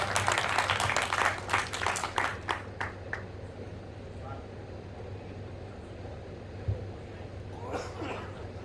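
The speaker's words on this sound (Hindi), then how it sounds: "जोरदार तालियां आपकी बज जाए" Audience applause at a Hindi poetry gathering (kavi sammelan) on the Narmada bank, a short burst of scattered clapping that fades after about three seconds into quiet room tone with a few faint sounds.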